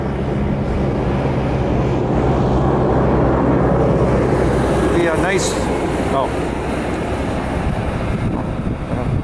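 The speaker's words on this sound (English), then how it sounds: "I could not foresee the tractor coming driving by" A loud, droning engine rumble fills the scene, a tractor passing nearby a tobacco field near Delhi, Ontario, with a constant low roar and faint higher tones drifting over it.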